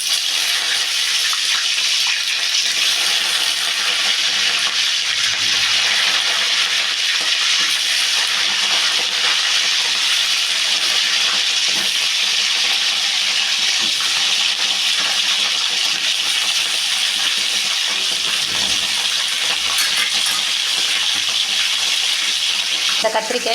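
Brinjal (eggplant) fries in hot oil as watery pieces make it splatter, a loud, steady hissing sizzle that runs unbroken throughout, with a few low knocks of utensils.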